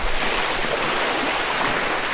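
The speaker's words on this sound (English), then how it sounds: "Now this is the jet boil. With this one, I'm gonna heat up some water." A Jetboil camping stove burner roars in a steady, loud, breathy hiss as it heats about two cups of water at a camp on a deserted island, with no pauses or voices.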